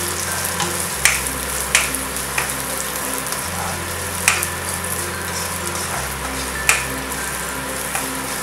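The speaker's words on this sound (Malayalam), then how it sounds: "വെളുത്തുള്ളി, പിന്നെ ഇഞ്ചി സ്പ്ലിറ്റ് ചെയ്ത പച്ചമുളക് ഇതെല്ലാം കൂടെ ഇട്ടൊന്ന് വഴറ്റുക" Garlic, ginger, split green chilies and curry leaves sautéing in oil for a Kerala-style fish dish, a constant close sizzle with a low steady hum beneath and a few crisp clicks of a spoon against the pan.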